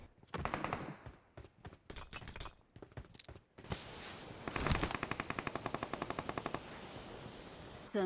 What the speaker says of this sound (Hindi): वैसे ही मुझे इधर से गोलियों के साउंड आ जाते हैं